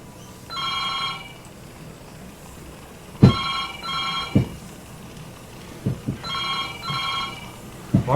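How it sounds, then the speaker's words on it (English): A telephone rings in repeated double bursts of a trilling electronic bell, loud and clear, separated by pauses with a few knocks and thumps in between. "My phone's ringing, I'm going to have to let you go."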